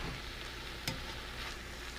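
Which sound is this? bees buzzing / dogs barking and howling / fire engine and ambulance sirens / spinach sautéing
spinach sautéing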